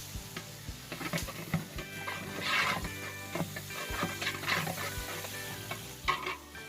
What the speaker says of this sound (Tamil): அடுத்தது புதினா, மல்லி ரெண்டையும் சேர்த்து இது கூடவே நல்லா வதக்கிடுறாங்க.